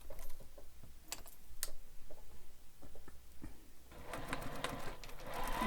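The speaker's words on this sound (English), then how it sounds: "And top stitch all the way across." A sewing machine top stitching across a fabric wallet, running in short bursts with clicks and pauses, then a steadier faster run near the end, moderately close and fairly quiet.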